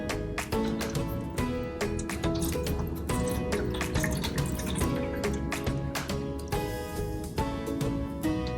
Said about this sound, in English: you're going to take some water and you're going to fill it up in the pan